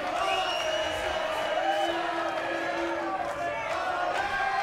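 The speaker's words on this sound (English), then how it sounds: "The Irish fans are now in full voice here as we're coming down the stretch" Irish fans roaring and cheering in a packed arena crowd at an Invicta FC 52 women's MMA fight, a dense, loud, sustained wall of voices and whoops with commentary over the top.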